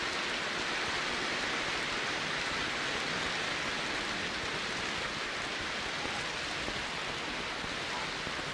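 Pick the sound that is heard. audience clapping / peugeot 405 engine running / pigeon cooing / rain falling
rain falling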